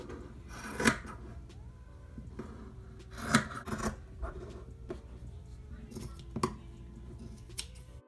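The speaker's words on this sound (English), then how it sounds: "It's already kind of short, so I'm not really gonna cut it too short. I'm just gonna make it shorter." Scissors snip through a thrifted shirt to shorten it, with several distinct close cuts spaced a few seconds apart amid soft fabric rustling.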